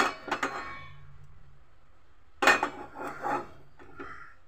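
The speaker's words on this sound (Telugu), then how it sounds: "స్టవ్ వెలిగించి ప్యాన్ పెట్టాను." A pan set down on a lit gas stove gives a couple of quick metallic clinks, then after a pause a louder clatter and scraping of cookware, close and clear in a quiet kitchen.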